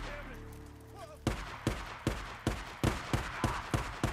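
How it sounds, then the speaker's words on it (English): Rapid pistol fire from an enemy in the Days Gone video game, about nine sharp shots in quick, fairly even succession after a short stretch of quieter game ambience with faint voice-like sounds. "He is shooting fast though,"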